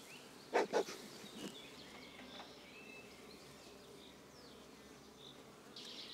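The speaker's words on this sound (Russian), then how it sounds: "Дымка даем согнать пчелу с рамок." Buckfast honey bees buzz around hive frames as smoke drives them off, a steady low drone with a couple of louder close passes early and a brighter swell near the end, without talk.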